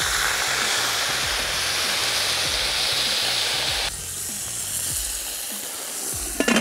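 Meat and potatoes fry with a close, loud hiss and sizzle in a kazan, and stirring clatter sounds under it. After a few seconds the hiss shifts and quietens as a little water is added.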